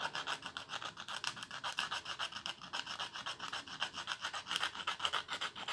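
The ends of a guitar part are sanded by hand, a quiet, close, rhythmic back-and-forth scratchy rasp repeating steadily throughout, with no talking.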